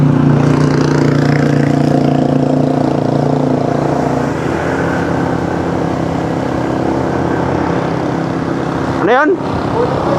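A Yamaha R15 motorcycle engine running loud and steady outdoors, a continuous droning hum with a brief sharp swell near the end.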